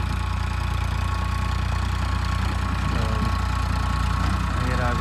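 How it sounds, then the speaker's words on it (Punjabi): A tractor engine idles nearby with a steady, low, rapid chugging throb, continuous throughout while a person talks over it. "ਵੀਰ ਆ ਰਿਹਾ ਟਰੈਕਟਰ ਲੈ ਕੇ"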